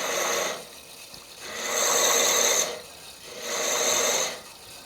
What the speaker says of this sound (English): it starts scraping the wood, like this